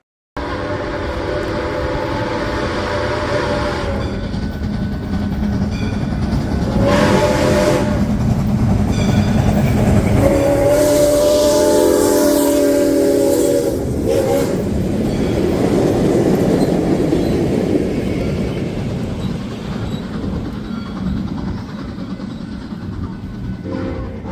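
SOO Line 1003 steam locomotive rolls through downtown Rubicon, Wisconsin, a loud close pass with chuffing, rumbling wagons and squealing wheels building to a peak midway before easing off as the train moves on.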